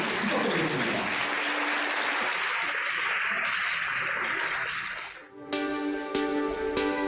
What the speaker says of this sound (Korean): 축하의 힘찬 박수 부탁드리겠습니다